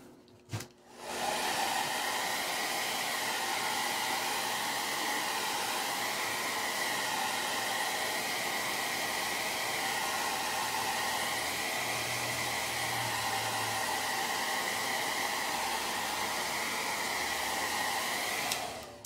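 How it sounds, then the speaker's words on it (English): A hair dryer blows steadily on fresh paint on a DIY phone stand, a loud continuous rushing whir that runs on without a break for most of the stretch after a short click at the start. "I'm going to go ahead and blow dry these."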